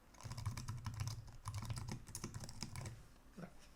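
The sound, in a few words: typing RPG code on a computer keyboard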